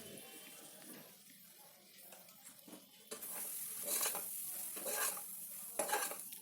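Boti (tripe) frying in oil with chili powder over a medium flame, a steady close sizzle with stirring scrapes, growing louder and brighter partway through, with occasional sharper bursts.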